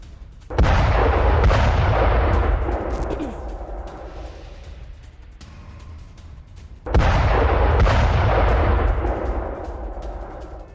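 Two heavy blasts from a rocket attack and air defense interception, each a sudden loud boom that rolls and rumbles for several seconds before fading, heard alone.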